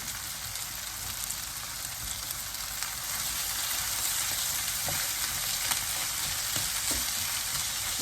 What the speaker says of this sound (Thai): ใส่เส้นผัดไทยลงไปเลยค่ะ ใส่เส้นไม่หมดนะคะเพราะกระทะเล็กนะคะ